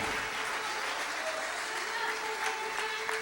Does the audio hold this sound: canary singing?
no